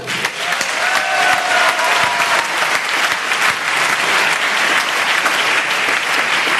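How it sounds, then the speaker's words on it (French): A live audience applauds itself, steady dense clapping filling the room throughout, loud and close, with faint cheering tones and brief voices mixed in. "Vous pouvez vous applaudir, les moches, car vous le méritez."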